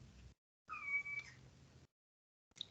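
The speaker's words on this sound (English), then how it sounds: "And the cat wants to get out." A house cat meows twice in quick succession, the second call rising and wavering, close and fairly quiet in a still room, followed by a brief faint chirp after a pause.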